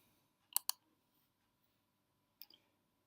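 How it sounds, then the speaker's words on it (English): A computer mouse clicks sharply and faintly in a quiet room, a quick double click followed by another pair of light clicks a couple of seconds later. "Close that window by clicking on the X."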